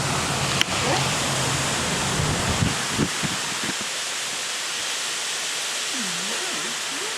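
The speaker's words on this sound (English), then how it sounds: "it's a crazy storm out there." Heavy rain from an outdoor summer storm pours down as a dense, steady wash of noise, with a few sharp knocks and muffled rumbles early on.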